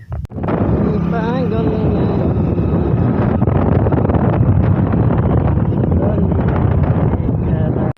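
Steady wind buffeting a microphone while riding a motorbike on a road trip near Muzaffarpur, loud and continuous from start to finish, with a low rumble and faint speech mixed underneath.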